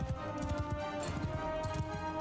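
A horse galloping in Mount & Blade II: Bannerlord, rapid rhythmic hoof clip-clops at a steady pace, close and continuous under faint battle ambience.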